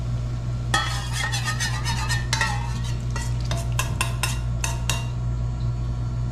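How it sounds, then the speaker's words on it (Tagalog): Soup being stirred in a pot as cornstarch thickens the sauce, with a steady low simmer or sizzle underneath and a cluster of sharp utensil scrapes and clinks against the pot partway through. "Haluin natin hanggang sa lumapot yung ating sabaw."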